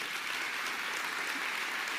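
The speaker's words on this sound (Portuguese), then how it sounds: "vamos aplaudir o Senhor por essa aí." A congregation claps together in church during a sermon, a soft, even patter of applause that holds steady from a distance.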